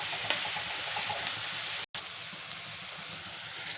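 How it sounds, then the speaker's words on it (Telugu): Egg fried rice frying in a hot pan, a steady close sizzle and hiss with light stirring clicks, running alone for a few seconds with one brief dropout midway. "ఇది ఒక 2 మినిట్స్ మనం ఫ్రై చేసుకుంటే బాగుంటుంది."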